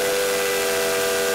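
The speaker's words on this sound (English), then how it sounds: "He blew his three-chime steam whistle as loudly and as boomingly as he could." A tank engine's three-chime steam whistle blows one loud, steady, unbroken chord of several blended tones, with a breathy hiss under it.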